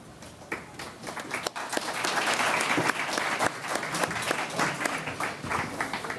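A full audience gives a sustained round of applause at a public forum in Montreal, steady and fairly close with sharp individual claps, and no talking.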